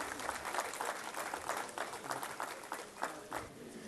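Audience applause at a mushaira, an Urdu poetry gathering, steady rhythmic clapping from a large crowd sustained throughout, moderately distant and even.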